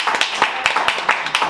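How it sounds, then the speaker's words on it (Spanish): Rhythmic clapping from an audience at a Spanish-language lecture event, a quick run of distinct claps that sounds close, brief and fairly loud. "Un aplauso para él."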